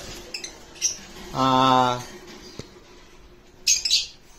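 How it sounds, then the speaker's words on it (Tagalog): Pet birds kept in cages at a bird keeper's place give a few short sharp chirps, one louder harsh squawk in the middle and a pair of bright high calls near the end, with quiet room noise in between. "yun po yung update natin sa ibonan natin at sa ibon ni Sir Ray"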